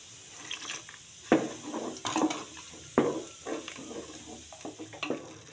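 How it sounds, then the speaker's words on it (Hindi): In an egg curry being cooked on a stove, water swishes in a jar and splashes into the pan in several uneven bursts over a soft background sizzle, close by with no talking. "इस जार में थोड़ा सा वाटर डाल के हिला के डाल लेते हैं।"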